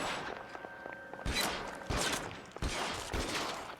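Scattered gunshots from an enemy firing in LA Noire, several sharp cracks spaced irregularly over a few seconds against quiet game ambience.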